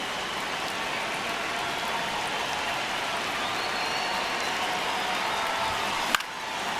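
Baseball stadium crowd noise in MLB The Show fills the space as a dense, steady roar and murmur of a large crowd, with a brief sharp knock near the end.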